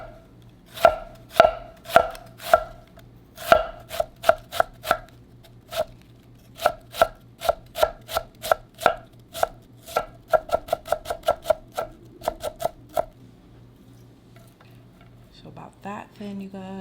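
Knife cutting thin slices on a board for crispy fish tacos: sharp, evenly spaced chops, steady at first then quickening into a rapid run before stopping, close and clear, with faint kitchen handling at the end.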